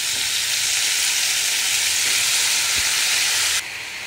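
Brinjal pieces fry in a kadai, giving a loud, dense, continuous sizzle that drops suddenly to a lower hiss near the end.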